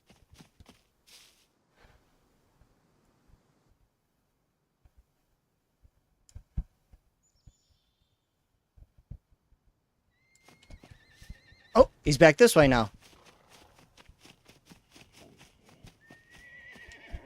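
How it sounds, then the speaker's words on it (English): A horse in the video game SCUM whinnies in a loud, shaky burst after a long, near-silent stretch, with scattered soft clicks of hooves before and after it; someone speaks briefly. "There are no horses in this game. I hear a horse, and there is nothing."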